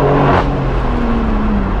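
A BMW M4 with a full straight-pipe exhaust drones loud and close from inside the car, its engine note jumping briefly as it shifts gears and then holding a steady roar.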